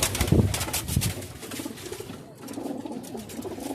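Pigeons, a mix of breeding pairs, flying birds and young, coo in low, throaty repeated calls close by, with soft rustling and wing movement in between and no talking.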